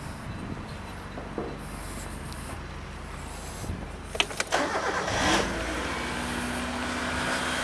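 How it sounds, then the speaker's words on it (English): A silver Mitsubishi Lancer Estate engine cranks briefly and catches, then settles into a steady, even idle that hums on at moderate volume to the end. "So I'll just start the car for you so you can hear it running."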